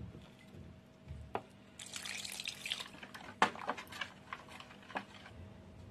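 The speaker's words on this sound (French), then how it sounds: "je vais mettre 4 bols de l'eau déjà" Bowls of water poured into rice flour while making Vietnamese rice crêpes with shrimp, heard as close splashing and trickling with a few sharper drips and splashes over a faint background hum.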